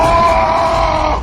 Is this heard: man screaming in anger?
yes